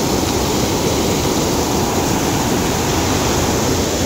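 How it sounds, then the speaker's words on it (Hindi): Floodwater pours steadily down from a pond during a heavy rainstorm in Kashmir, a loud, continuous broadband rush with no pauses, close by. "यहाँ से पानी जाके ना नीचे गिर रहा है सारा"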